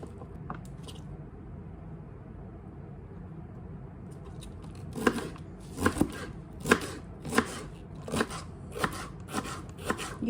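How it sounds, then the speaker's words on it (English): A knife chops celery on a cutting board in a quiet kitchen: after a few isolated taps, a run of about ten crisp, evenly spaced chops rings out close and loud, with no talking. "You can cut your celery however you want."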